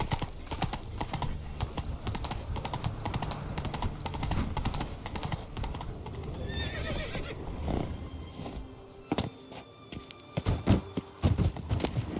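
Roach, the horse in The Witcher 3, clip-clops along at a steady walking rhythm, hooves close and clear, with a whinny partway through and a few heavier hoofbeats near the end.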